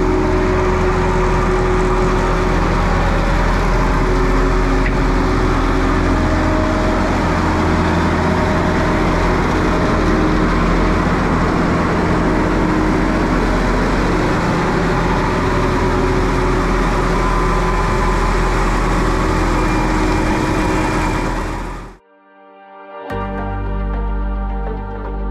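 A Dyce tractor driving a Wakely mill rolling barley drones steadily with a rumbling, grinding mechanical clatter for a long stretch, then cuts out abruptly before the machinery briefly starts up again.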